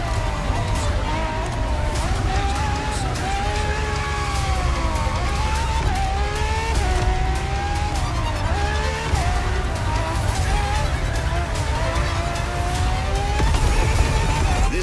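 A Ferrari FXXK supercar, a track-only version of the LaFerrari, races in The Crew Motorfest video game, its engine whining and shifting pitch up and down through gear changes, with tire noise and a siren-like tone underneath, plus voices in the background.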